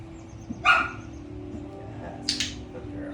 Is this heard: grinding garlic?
no